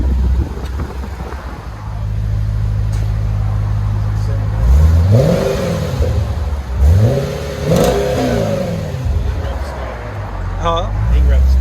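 A 2007 Audi RS4 4.2L V8 with a resonator-deleted dual exhaust revs hard several times, the engine pitch sweeping up and falling back between loud blips, with voices talking nearby.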